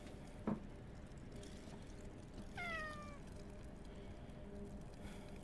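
A cat meows once in Fears to Fathom Woodbury Getaway, a clear falling cry over steady background noise, with a single soft thump just before it.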